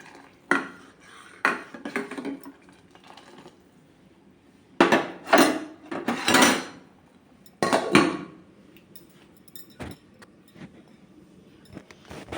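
A spoon stirs sago payasam in a pot, scraping and knocking against the metal in intermittent clusters of clanks and scrapes, with quiet gaps between them.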